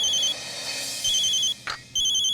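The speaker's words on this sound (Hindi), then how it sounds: "किसका फोन है?" A phone ringing with a repeating electronic ringtone in short bursts, loud and close, with brief pauses and a small noise between rings.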